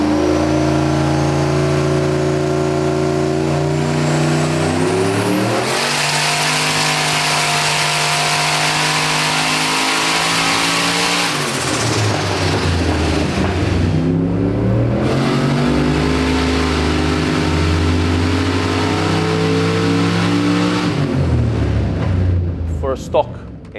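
A turbocharged car engine tuned to roughly 850–900 horsepower, with a stock rotating assembly and mild cams, revs up hard in loud repeated surges and drops between them, close and continuous, with people talking over it.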